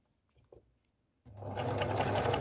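A sewing machine topstitching with a presser-foot setup starts after a short quiet pause with a light click, then runs in a loud, fast, steady mechanical whir close by.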